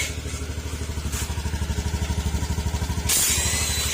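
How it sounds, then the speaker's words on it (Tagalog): A motorcycle engine idles close by with a steady, even putter, then a sudden hiss of noise breaks in near the end. "papansin nyo, tahimik na tahimik yung makina"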